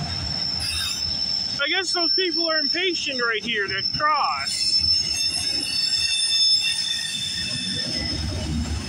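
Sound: CPKC freight train with auto racks passing

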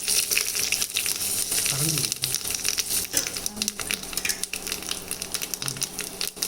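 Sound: mustard seeds popping in hot oil

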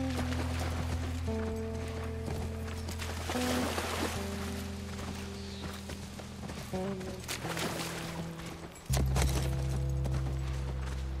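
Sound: horse hooves galloping in video game The Last of Us Part 1

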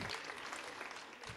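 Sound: students applauding

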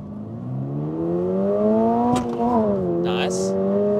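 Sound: 2023 Toyota GR86 accelerating 0 to 100 km/h, traction off

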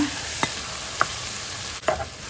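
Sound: stir-frying pork leg in red curry paste

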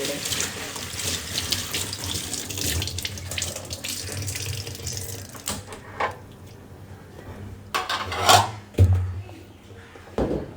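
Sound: tap water running while washing a packet

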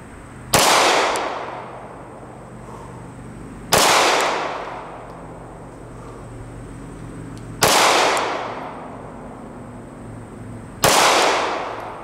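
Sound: handgun shots fired off-handed at 7 yards

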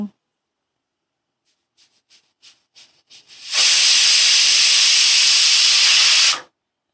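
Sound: pressure cooker whistle

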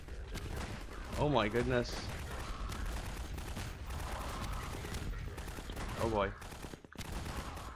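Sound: gunfire from Combine soldiers in Garry's Mod video game

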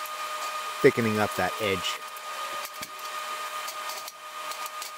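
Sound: welding a second pass onto a cast iron anvil edge

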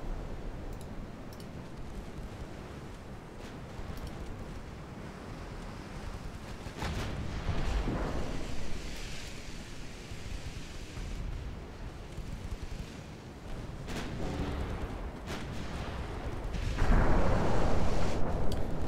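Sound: warship guns firing high explosive shells in a naval video game

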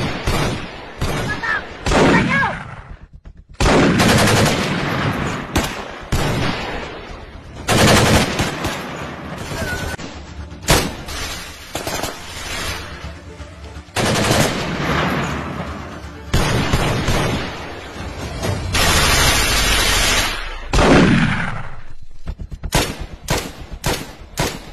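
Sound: gunshots in an action short film

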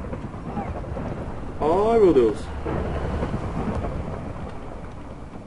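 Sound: intense rain and thunder in Minecraft video game

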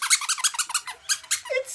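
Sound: squeaky cat toy mouse squeaking

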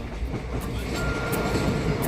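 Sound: train running, Madgaon–Nagpur Express with banker engine

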